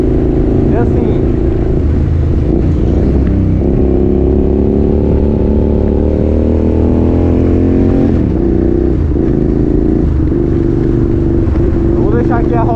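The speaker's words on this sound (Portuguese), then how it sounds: "eu vou deixar aqui a rotação da moto mais alta." A Hyosung GT650R motorcycle engine revs and holds at high RPM, a steady loud drone with shifting harmonics that climbs and dips near the end, heard up close while a person talks over it.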